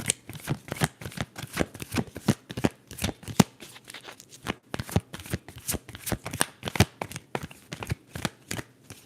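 Tarot cards shuffled by hand, a rapid run of crisp riffling snaps and flicks in an irregular rhythm, close and clear with no talking.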